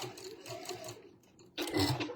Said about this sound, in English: we're going to sew up to the pin